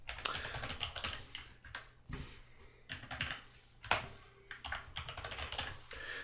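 Rapid, uneven keystrokes on a computer keyboard clatter close by in bursts with short pauses, including one sharp louder tap, and no talking over them.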